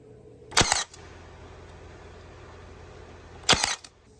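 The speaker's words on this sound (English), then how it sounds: "we're using a brad nailer and nailing into the sides" A brad nailer drives nails into the sides of a wooden tray: two sharp, loud clacks a few seconds apart, each with a quick double snap, separated by a quiet room hum.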